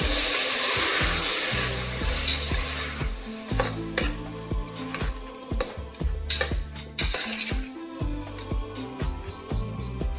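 Chopped tomatoes with turmeric being stirred in a pan, a spoon scraping and clinking against the metal in an irregular run of sharp, close knocks over a continuous background hiss, no speech.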